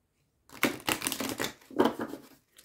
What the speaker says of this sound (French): Pareil, je vais aller chercher 3 cartes.